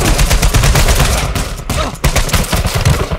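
Rapid video game gunfire, dense bursts of shots rattling almost continuously in loud, close volleys with a couple of brief gaps.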